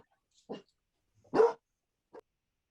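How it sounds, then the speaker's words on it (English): A dog gives a few short, separate barks in a quiet room, the middle bark louder and fuller than the soft ones before and after. "The dog said yes."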